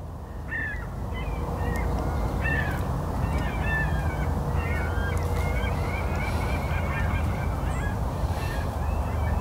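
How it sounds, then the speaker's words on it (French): Flock of geese honking repeatedly in a steady, busy chorus over a continuous low outdoor rumble, calls overlapping at moderate distance with no talk. "Les oies."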